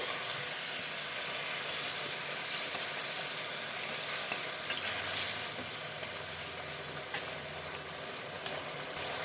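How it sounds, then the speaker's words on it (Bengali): Bata fish curry cooking in a pan, with a steady low sizzle and bubbling at close range and occasional stirring clicks, no voices. "ঝোলটা ফুটে উঠলে মাংস মাছগুলো দিয়ে দেব"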